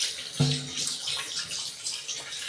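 Running tap water splashes over hands being washed in a home kitchen sink after wonton prep, with a sharp knock near the start, then an uneven trickle and spatter, close by.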